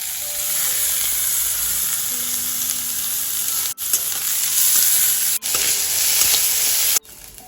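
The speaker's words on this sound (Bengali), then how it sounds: "আর এখানে হচ্ছে রসুন কুচিটা আর পেঁয়াজ কুচিটা দিয়ে দিলাম।" Chopped garlic and onion fry in about a spoonful of oil for homemade pizza sauce, a close steady sizzle with stirring scrapes, broken by a few sharp brief dropouts.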